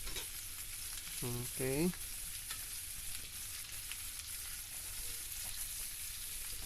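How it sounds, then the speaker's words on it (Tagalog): Garlic and onion sauté in a hot pan while pork ribs are being cooked, with a steady close-up sizzle and crackle throughout; a voice speaks briefly near the start. "Bawang sibuyas. Gisa na natin yan."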